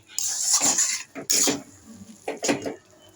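A utensil stirring cheesy Maggi noodles in a pan, heard as a few loud scraping and clattering strokes against the pan with brief pauses between them, close by and with no talk.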